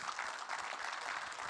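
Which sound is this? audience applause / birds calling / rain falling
audience applause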